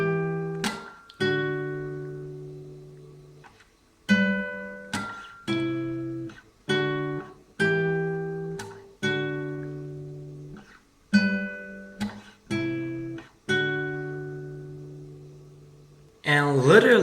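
A clean guitar plays the main riff of Ali Gatie's "What If I Told You That I Love You", repeating plucked notes and chords, each ringing and fading, with gliding pitch slides between some notes.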